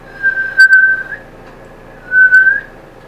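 A person whistles two clear, sustained tones, close and loud, separated by a short pause, with no talk.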